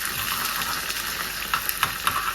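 Onion frying in hot oil with mustard seeds and curry leaves in a home kitchen pan, a steady close sizzle with a few sharp pops and stirring scrapes, no talk.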